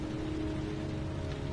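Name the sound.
rain falling in the video game Heavy Rain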